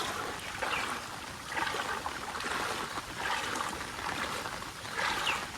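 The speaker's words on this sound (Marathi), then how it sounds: "जोरात पाणी येतं आहे खालून इकडे" Floodwater from heavy rain in the Konkan flows forcefully nearby over flooded farmland, swelling and easing in repeated surges over a low steady rush, fairly soft overall.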